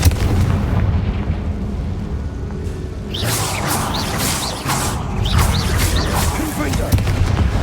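Confringo spell explosions in Hogwarts Legacy: a steady low rumble, then from midway a run of sharp, crackling blasts that burst out one after another over the droning background.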